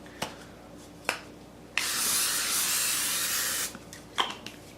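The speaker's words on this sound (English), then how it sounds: "Okay, well first spray your pan." A single long hiss of cooking spray onto a pan lasts about two seconds, close up, with a few light clicks and taps before and after.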